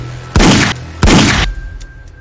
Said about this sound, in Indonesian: The Prince akhirnya menembak Lemon